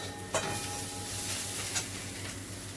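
Onions sizzle and fry in a pan for a Bengali fish and potato curry, a steady close crackle with a few stirring scrapes of a utensil against the pan.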